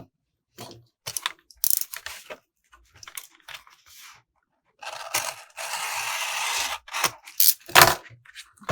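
A paper colour chart for a Caran d'Ache Neocolor II 84-colour set is cut apart, giving a series of short, close snips and crisp paper rustles, with a longer scraping cut in the middle.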